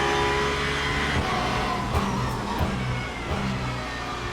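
A race car in the racing game Le Mans Ultimate accelerates on the wet Fuji circuit in the rain. A steady, loud engine drone climbs through the gears with small shift breaks, heard alone.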